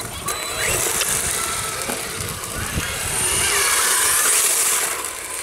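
ABSIMA ATC brushless RC car running on a 3S lipo, with a steady high electric motor whine and gravelly tyre noise that holds throughout and swells toward the end, fairly close.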